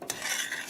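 A spoon stirs melted butter and flour together in a pan, a short steady scrape with a faint sizzle underneath, close and moderately loud.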